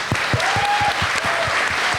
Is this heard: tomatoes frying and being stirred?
no